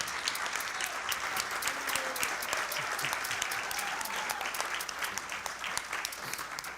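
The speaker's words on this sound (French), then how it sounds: "Bravo pour cette reconnaissance bien méritée et on vous applaudit." Sustained applause from an audience at an awards evening honouring volunteers in Saguenay–Lac-Saint-Jean, steady dense clapping throughout with a faint murmur of the crowd underneath.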